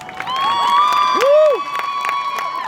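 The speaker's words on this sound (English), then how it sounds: "Please give them a round of applause." An audience at a graduation ceremony cheers and claps, with high whoops and whistling shouts rising above scattered applause, loud and lively throughout.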